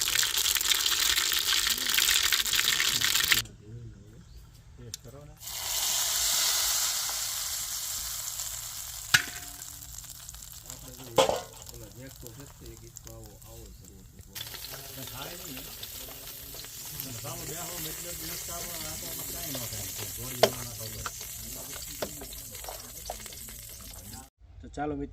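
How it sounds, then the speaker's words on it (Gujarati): A tempering of mustard seeds, curry leaves and chillies sizzles and fries in hot oil before going into a chutney, with quiet hissing and crackling bursts that come and go, under a talking voice. "એ પછી આપણે વઘાર ચટણીમાં નાખી દઈએ"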